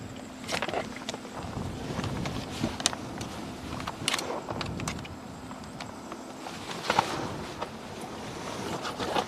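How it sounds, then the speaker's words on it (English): Wind blowing outdoors at night makes a continuous broad rushing roar that swells in gusts, with scattered close rustles and footsteps and no clear talk. "Oh, the wind's blowing."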